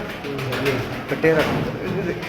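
A pigeon held in a person's hand gives soft, short cooing calls in a few brief bursts, close and fairly clear against light background noise.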